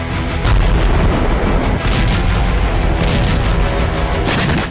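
Blast from a Ukrainian drone detonating on the battlefield, a loud booming explosion with rolling, crackling rumble that sustains for several seconds.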